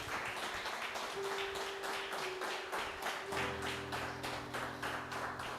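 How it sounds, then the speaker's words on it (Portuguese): A church congregation applauds in praise, steady rhythmic clapping from many hands filling the room, with a sustained organ or keyboard tone underneath. "Aplauda ao Senhor mais uma vez."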